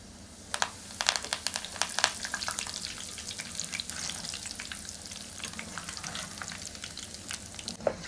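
Tempering spices and Guntur dried red chillies frying in hot oil over a low flame, giving a steady sizzle with crackling pops that cluster thickly early on and then thin out; no one speaks.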